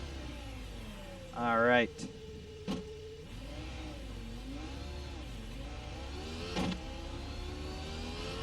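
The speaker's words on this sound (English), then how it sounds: "Just love the sound of a V10 firing up." A Dallara iR-01 V10 in iRacing fires up with a short whining rev burst, then settles into a quiet, steady idle hum. A voice speaks briefly over it.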